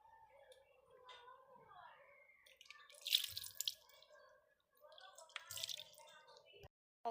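Water poured into a pan of fish while cooking, with splashing, dripping and sizzling bursts close by, as someone talks over it.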